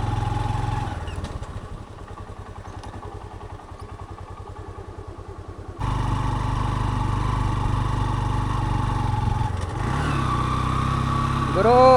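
Off-road vehicle engine labouring on a hill climb in Mandalpatti, a loud, steady low drone that steps up in intensity partway through, with voices talking over it.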